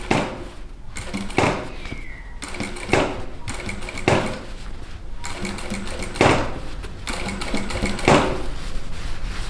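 Sewing machine stitching a zipper into trousers, running in repeated short bursts of rapid mechanical whirring and clatter, with brief pauses and handling knocks between runs, close and fairly loud.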